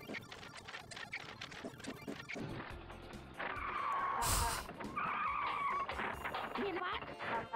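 Video game car in Pilot Brothers, a point-and-click adventure, with a long loud tire screech and skid that rises and holds for several seconds, ending in a thud, while people talk.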